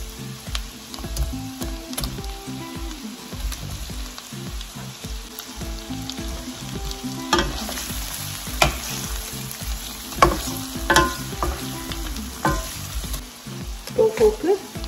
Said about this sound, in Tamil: பூண்டு பொரிஞ்சிட்டு இருக்கிறப்பவே நீங்கள் வந்து டோஃபு இதில் சேர்க்கலாம்